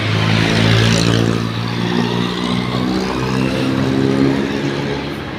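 A garbage truck's engine runs loud and close at a low, steady idle, churning with a slight rise and fall throughout.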